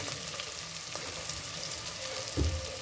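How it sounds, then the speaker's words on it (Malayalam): Cut onions, one large and one medium, sautéing in a pan for upma produce a soft, even sizzle with faint crackles throughout and a brief low bump near the end, no talking. "ഒരു വലിയ ഉള്ളിയും ഒരു ഇടത്തര ഉള്ളിയും കട്ട് ചെയ്തിട്ട് അതിലിട്ട് വഴിക്കാൻ നന്നായി വഴറ്റിട്ട്"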